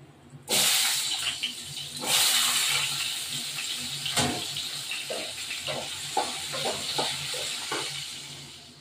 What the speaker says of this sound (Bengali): আলুগুলো তেলের মধ্যে ভাজবো।